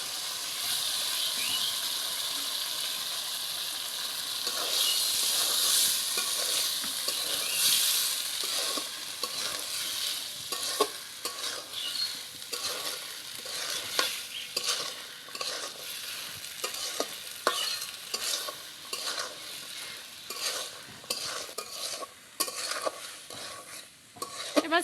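Boiled chickpeas and fried potatoes sauté with spices in a pan, a loud hissing sizzle at first that becomes rhythmic, repeated scraping and tapping of a spoon as the mixture is stirred; no voices.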